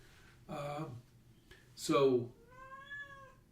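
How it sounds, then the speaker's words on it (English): A cat meows outside a door, three drawn-out, close cries spaced over a few seconds, the middle one loudest. "So, pardon the stupid cat outside the door."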